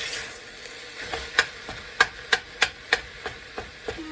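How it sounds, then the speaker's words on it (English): A spoon scrapes and knocks around a pan of homemade meat sauce, giving a run of sharp, evenly spaced clinks over a faint steady sizzle, close and moderately quiet. "Let's give it a nice mix"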